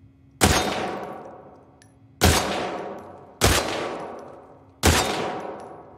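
Four loud, separate rifle shots in the video game The Last of Us Part II, each a sharp crack followed by a long ringing tail, spaced roughly a second or more apart.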